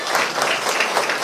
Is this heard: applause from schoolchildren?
yes